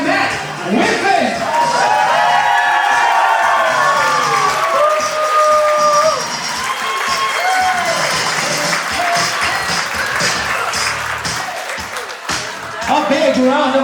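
Wedding guests give a big, sustained round of applause with cheers and whoops for the maid of honor and best man as they enter, loud and close, with some voices mixed in.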